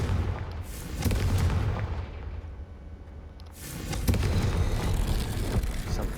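Confringo spell explosion in the video game Hogwarts Legacy: a couple of heavy booming blasts with rumbling tails, loud and close, separated by a brief quieter gap.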